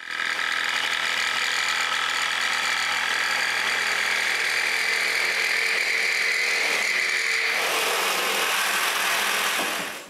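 A power saw cuts a curved plywood shape for coat-rack legs, its steady motor whine and buzzing blade running continuously up close, with the tone shifting and brightening near the end of the cut.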